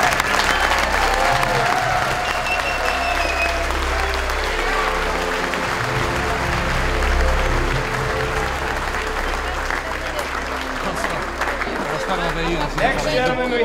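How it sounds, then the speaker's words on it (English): Sustained applause fills a banquet hall at a WWII veterans' dinner, a large crowd clapping steadily and loudly, with some chatter and voices mixed in. "Give him a round of applause."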